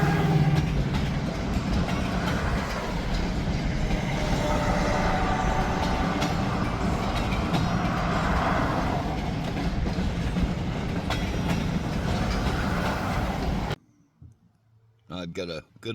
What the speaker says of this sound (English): catch this train coming on through